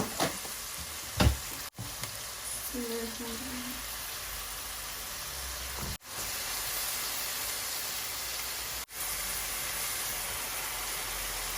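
Chicken for a bottle gourd curry sizzles and fries steadily in a pan, a close hissing with a few stirring knocks and clatters early on.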